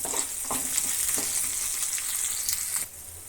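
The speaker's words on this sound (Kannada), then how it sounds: "ಸ್ವಲ್ಪ ಉದ್ದಿನಬೇಳೆ ಹಾಕಿ ಇದು ಫ್ರೈ ಮಾಡೋಣ" Urad dal, onion and curry leaves frying in hot oil, a steady close sizzle with bursts of crackle and occasional stirring, easing off near the end.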